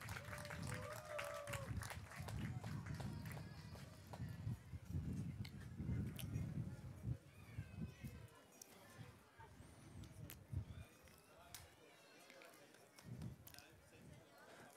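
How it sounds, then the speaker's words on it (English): Crowd applause for a kart driver at a ROK Cup Euro 2023 podium ceremony at Prokart Raceland Wackersdorf, distant and faint clapping mixed with an announcer's amplified voice and outdoor noise. "Come on guys, big applause for Nicky."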